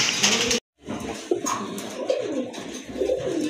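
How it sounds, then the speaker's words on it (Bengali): A pair of large Indian Bombay pigeons coo close by in low, rolling calls that run almost continuously, broken once by a brief moment of silence early on. "এক জোড়া ইন্ডিয়ান বোম্বাই দেখতে পাচ্ছেন, অনেক বড় সাইজের কবুতর"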